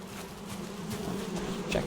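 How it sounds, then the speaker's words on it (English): Bees at a beehive in the video game Valheim buzz in a low, steady drone, close and fairly quiet, with no voices. "Check our bees, how they're doing."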